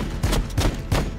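Bursts of gunfire in the Warhammer 40k Battlesector strategy game, three rapid volleys in quick succession, loud and close with heavy low-end impact.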